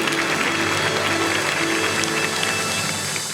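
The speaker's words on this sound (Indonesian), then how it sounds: "tepuk tangan buat Anyun Anyun." Dense applause from a comedy-show audience, steady and continuous throughout with a faint mechanical ratcheting texture, no voices on top.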